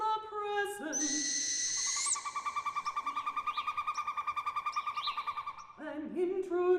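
An owl calls in a long, steady, rapidly pulsing trill with higher whistled tones at the start and end, clear and fairly close, lasting several seconds with no talking over it.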